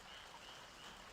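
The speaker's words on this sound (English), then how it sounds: "I hear frogs." Faint frog croaking amid ambient noise in the video game Resident Evil 3, brief and soft, with no voices.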